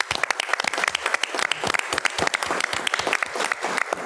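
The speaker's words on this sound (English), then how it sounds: "we applaud her on this accomplishment" Audience applause at a school board meeting, a short burst of distinct, close individual claps from a modest crowd, crisp and uneven.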